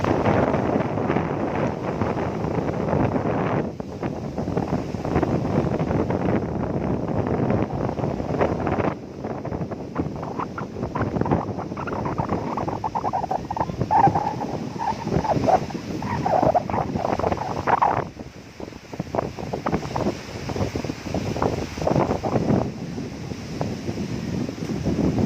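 Strong typhoon wind buffets the microphone over rough, crashing sea, a steady loud roar that surges and dips throughout with no break.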